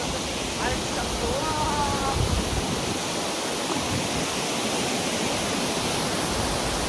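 Water falls steadily in a park fountain at a lake park in Riyadh, Saudi Arabia, making a loud, continuous broadband rush. A voice talks faintly beneath it.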